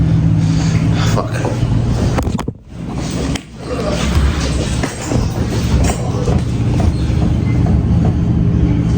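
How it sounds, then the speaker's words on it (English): A train rumbles loudly and steadily at close range, passing through a station or along the platform, with a brief dip in the noise partway through; someone talks over it. "The train is already downstairs."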